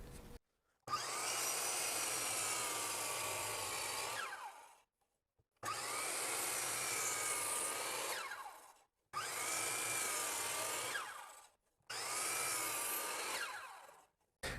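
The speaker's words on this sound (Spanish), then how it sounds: "Tenemos que ponerlo en el ángulo de 20 grados del lado izquierdo para poder cortar estas piezas." A circular saw disc cuts wooden shelf pieces at a 20-degree angle in four separate passes, each a loud sustained whine of several seconds, with short silent gaps between cuts.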